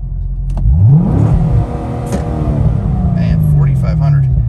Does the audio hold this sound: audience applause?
no